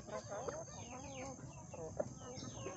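Native chickens cluck and chatter in a flock close by, a busy overlapping mix of short clucks and calls under a faint background hiss.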